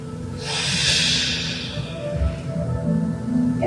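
Deep, drawn-out breaths during a gentle senior yoga floor exercise, a long airy exhale swelling and fading over a few seconds with soft rustling beneath, no speech.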